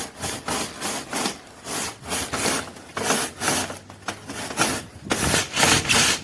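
A chimney brush is pushed back and forth through the flue of a solid-fuel boiler, producing loud, close, rhythmic scraping strokes at a steady pace of about two per second.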